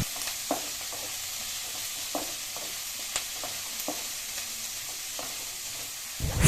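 Sliced onion and curry leaves sizzle in hot oil while a spoon stirs them, a steady frying hiss broken by scattered scrapes and taps against the pan. Near and moderately quiet, no talking.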